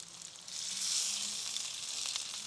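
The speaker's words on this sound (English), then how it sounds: "Check out the sizzle." Basil-crusted rack of lamb sizzles steadily in a hot pan, a close, bright crackling hiss that swells slightly and holds for a couple of seconds.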